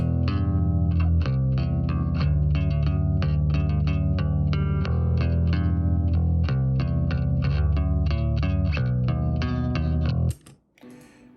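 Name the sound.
clean bass guitar plugin sound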